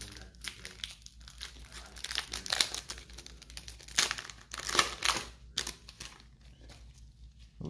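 Panini baseball card blaster packs are torn open, making continuous close crinkling and crumpling of foil wrappers with sharper ripping moments throughout.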